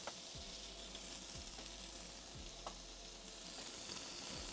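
Chicken fries in a hot pan for Indian curry, giving a continuous hissing sizzle with intermittent scraping stirs and small pops, close and moderately quiet, no voices.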